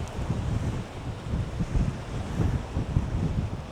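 Gusty coastal wind on the South West Coast Path near Bowleaze Cove, buffeting the microphone with rough low rumbling surges that rise and fall continuously, with no voices.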